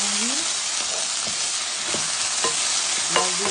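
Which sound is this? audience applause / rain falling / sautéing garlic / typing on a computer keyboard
sautéing garlic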